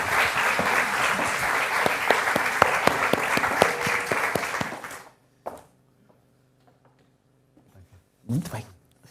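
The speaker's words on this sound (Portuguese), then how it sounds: "Uma salva de palmas, por favor." An audience applauds guests at a Porto literary session, a loud sustained round of clapping that cuts off abruptly, followed by near silence with a few faint rustles and a brief shuffle.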